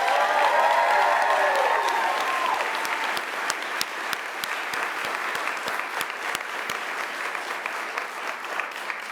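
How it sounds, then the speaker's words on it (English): Graduation ceremony audience applauds adjunct faculty and field instructors, a long, steady roar of crowd clapping with sharp individual claps standing out and faint cheering at the start. "Let's give them a big round of applause."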